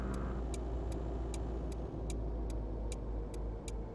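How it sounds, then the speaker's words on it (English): Steady rhythmic ticking of a truck's turn indicator in Euro Truck Simulator 2, about one click every half second, over a constant low engine drone. "The indicator sounds, well, the indicator sounds"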